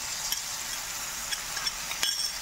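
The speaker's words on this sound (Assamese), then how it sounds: "এইখিনিও এতিয়া ধুনীয়াকৈ তেল বিৰিঙি অহালৈকে মই ভাজি ল'ম" Spice paste that was mixed with water frying in oil in a home kitchen, a steady close sizzle with a few faint clinks of stirring, no voices.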